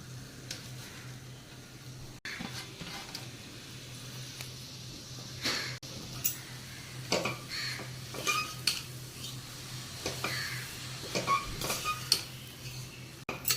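Spinach-type greens with pepper and tomato being stirred in a pan, the spoon scraping and clinking against the metal in irregular bursts over a steady low hum, close and fairly quiet with no talking.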